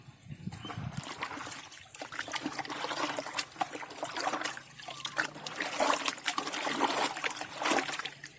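Calcium nitrate fertilizer solution poured for fertilizing curly red chili plants, a steady trickling and splashing of liquid close by, fairly quiet, with a brief rustle at the start.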